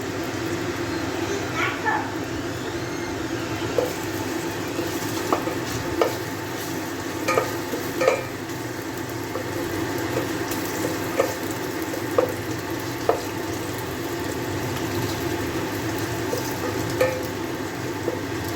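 Grated ginger stirred into a hot pan gives a steady low sizzle, broken by scattered sharp ticks and scrapes from the spoon against the pan.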